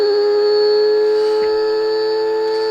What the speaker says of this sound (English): you're actually going to hear the actual beat frequency oscillator.